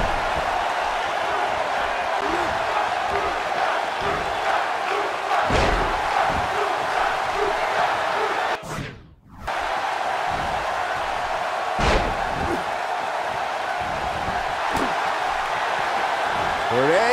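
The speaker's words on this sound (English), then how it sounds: "listen to this San Jose crowd" A roaring arena crowd in the WWE 2K18 wrestling video game, held at a steady loud level throughout, with a few slam-like thumps and one short dropout in the middle.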